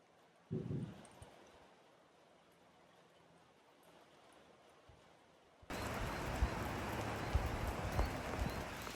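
Quiet rainfall patters in the background in a rural Australian farm area, then abruptly swells into a loud, close downpour roar for the last few seconds.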